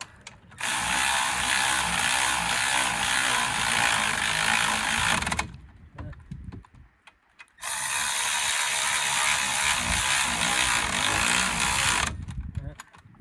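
An 18mm cordless impact wrench works the brake bolts on a Renault Clio Mk2, two loud sustained rattling runs of about five seconds each, separated by a quieter gap with handling noises.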